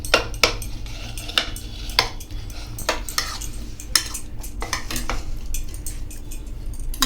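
A spoon stirs curd mixed with chilli in a bowl for a sandwich, giving repeated close clinks and scrapes against the bowl in an irregular rhythm, with no talking.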